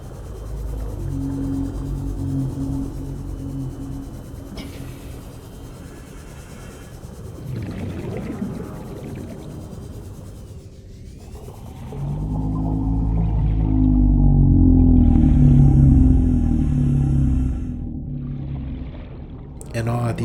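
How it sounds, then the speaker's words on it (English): A reefback leviathan in Subnautica bellows with deep, drawn-out moaning calls in an underwater crater, swelling loudly in the second half over a watery ambient wash while a narrator talks over the early part. "Large reef-back leviathans roar throughout the safe portions of the crater."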